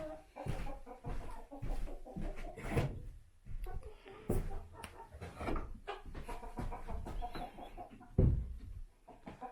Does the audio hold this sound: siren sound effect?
no